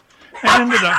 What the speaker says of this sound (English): Sorry about the dogs here.